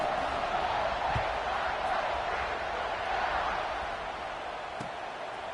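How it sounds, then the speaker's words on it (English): A college football stadium crowd at a Ducks vs Buckeyes game keeps up a steady, dense roar after a score, holding a constant wash of noise throughout with only a slight easing toward the end. "this crowd is buzzing after that last score"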